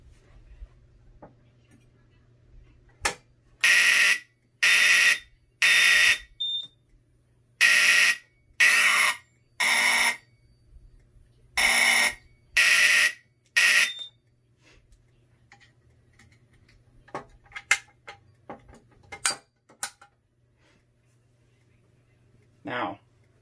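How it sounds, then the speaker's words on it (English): Siemens HN-EP fire alarm horn sounding a rough temporal pattern, sounding on an Edwards FireShield Plus panel test with a rough full-wave rectified output: three loud blasts, a pause, and the pattern repeated three times, followed by faint clicks and quiet room noise. "obviously the horn sounds a little rough because of the FWR output"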